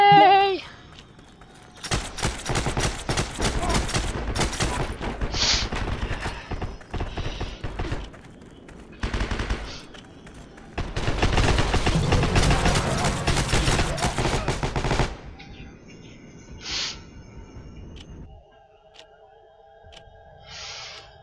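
Gunfire in the Heroes & Generals video game, dense bursts of rapid shots in several clusters separated by quieter gaps, with other game sounds between them.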